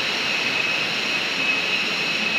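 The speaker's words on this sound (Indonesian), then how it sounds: "air terjun bertingkat" Tiered waterfall at Git-git in Buleleng, Bali, a loud, steady, broadband rushing roar of falling water heard close and alone throughout.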